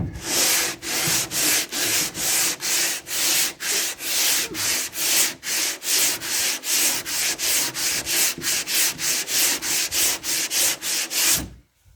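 Body filler on a car panel is hand sanded with a sanding board in steady, rapid back-and-forth strokes, a loud continuous rasping scrub with no talking.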